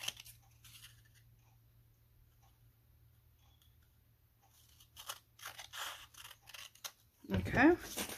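Scissors snip through a coffee-dyed, tea-stained index card in a few quick, close cuts after a long quiet stretch, followed by a louder rustle of handling.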